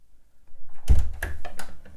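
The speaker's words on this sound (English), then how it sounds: "These are really loud doors." An old, noisy door handle rattles as it turns and the door thunks open, a sudden clunk followed by several quick clicks and knocks, close and loud with no talk.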